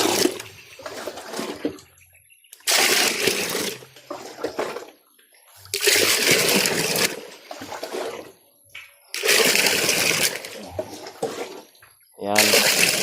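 Water is fetched and poured into a container for cleaning, in bursts of rushing, splashing pour, each lasting a couple of seconds, separated by quieter gaps with someone talking.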